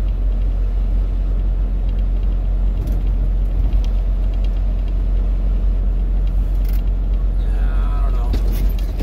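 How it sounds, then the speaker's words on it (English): Trucks moving around a lot on icy roads in Oklahoma, a loud, steady low engine rumble close by, with a brief higher mechanical squeal near the end and no clear voices. "Lots of trucks here."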